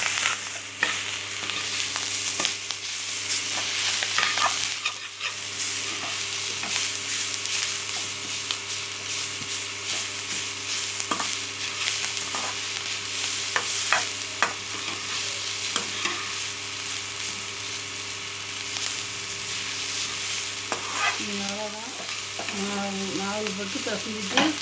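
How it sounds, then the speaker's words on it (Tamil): Ragi flour and grated coconut stirred in a pan, with continuous scraping and a soft sizzle, occasional louder spoon knocks, close and alone with no talk. "நல்லா கிளறி விட்டுக்கோங்க"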